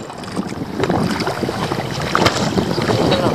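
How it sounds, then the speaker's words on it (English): Gusty wind buffeting a microphone while canoe fishing for brook trout, a steady rough rushing roar with stronger gusts near the end, heard alone without talk. "Oh man, it's just so hard to deal with the wind."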